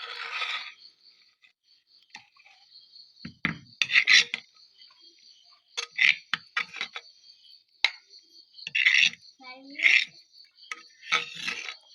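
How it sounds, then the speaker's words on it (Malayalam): Spiced masala for a red fish curry being ground into a smooth paste, heard as irregular rasping, scraping strokes in short bursts separated by quiet gaps. "അപ്പോൾ ഇതൊന്ന് അരക്കാൻ അരച്ചെടുക്കാം"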